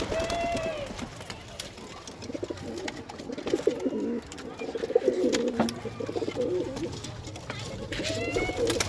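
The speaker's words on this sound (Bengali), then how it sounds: "ভিডিওটা দেখতে থাকো কী কী পায়রা আছে আমার" Several pigeons coo in low, throaty, overlapping phrases throughout, with a steady background murmur and occasional faint chirps.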